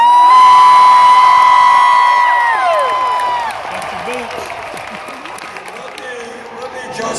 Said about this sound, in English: loud, and raucous crowd